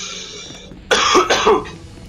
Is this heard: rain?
no